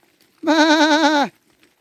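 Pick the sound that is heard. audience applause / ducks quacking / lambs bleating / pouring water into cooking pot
lambs bleating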